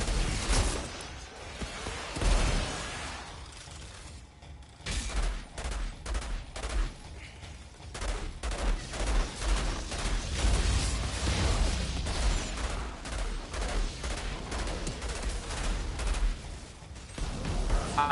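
Repeated shotgun blasts and other gunfire in the co-op shooter game Outriders, a dense run of loud bangs and bursts lasting throughout, with background game effects and no clear talk.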